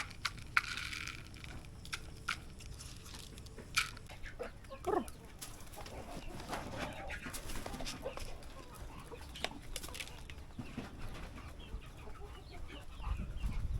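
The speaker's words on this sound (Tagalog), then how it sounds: "Ito yung light Sussex na rooster." A light Sussex rooster clucks on a farm, with scattered short clucks and scratchy rustling over a low background, near and moderately loud, and some faint voices in the background.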